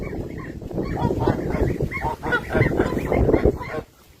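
A flock of adult geese with goslings honks continuously at close range, overlapping calls forming a dense, noisy chorus that stops abruptly near the end.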